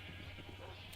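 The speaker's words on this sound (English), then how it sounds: "I've found that sheep try to escape more than other animals." A sheep bleats in the Minecraft video game, steady and fairly close, alone with no talking over it.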